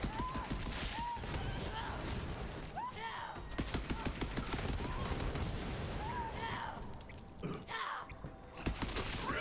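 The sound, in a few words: gunfire in the video game Borderlands 3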